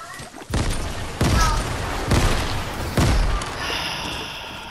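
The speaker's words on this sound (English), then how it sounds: "They're throwing grenades." Grenade blasts and gunfire in the Fortnite video game, with repeated heavy booming explosions about once a second layered over a continuous loud crackle of shooting.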